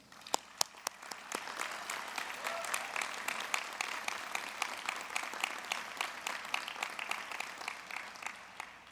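An audience applauds at a master's degree ceremony, a sustained round of clapping with a few distinct sharp claps at the start. It builds to a steady moderate level and continues throughout.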